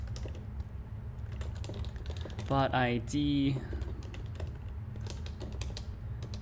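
Computer keyboard typing during a programming session on a Rust-based Twitch and Discord bot, fine scattered clicks running steadily throughout under a continuous low hum, with a brief spoken phrase near the middle.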